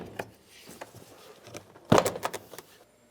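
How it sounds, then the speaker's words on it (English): A plastic door panel is pried away from the door of a 1999–2003 Toyota Solara: scattered faint creaks and taps, then a sharp, loud clunk-and-rattle burst of clips releasing, followed by a few smaller knocks. "we're going to start separating the door panel from the door"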